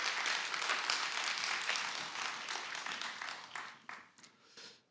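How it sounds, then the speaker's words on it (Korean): A church congregation applauds during a worship service, a dense, steady wash of clapping that holds for several seconds and then thins and fades out. "우리 최 목사님을 통해 영광 받으실 하나님께 영광의 박수 돌릴 때 환영하십니다"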